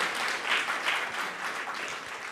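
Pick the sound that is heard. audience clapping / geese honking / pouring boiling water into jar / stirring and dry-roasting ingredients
audience clapping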